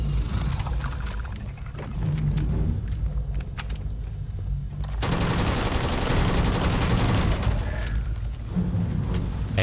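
Sustained gunfire from a gun in Starfield gameplay, loud and close, rapid bursts blending into a continuous dense clatter with heavy low rumble that intensifies midway and runs without pause.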